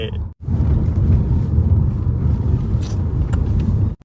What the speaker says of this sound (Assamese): প্ৰথমবাৰ অডি চলাইছোঁ